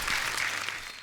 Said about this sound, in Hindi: एक बार सुनिधि, दिव्या जी और संजय जी के लिए जोरदार तालियां हो जाए